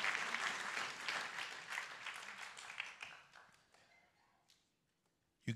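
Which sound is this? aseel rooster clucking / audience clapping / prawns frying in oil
audience clapping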